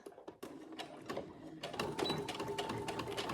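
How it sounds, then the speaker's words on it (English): A home sewing machine stitching fabric for a memory teddy bear with a quarter-inch seam around the snout, giving a close, steady mechanical whir with rapid needle clatter after a brief start-stop at the beginning. "I make sure there's no fabric underneath the area that I'm sewing"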